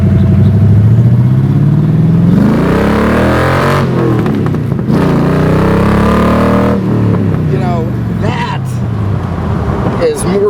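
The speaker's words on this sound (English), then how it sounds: "this incredible sound coming out the side pipes next to you" A Shelby Cobra's V8 bellows loudly through its side pipes, rising and falling in several hard revs and gear changes, close and dominant with a voice talking over it.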